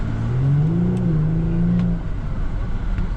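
Car engine revving while driving, a loud near rising tone that climbs and then settles into a steady running drone; no talking.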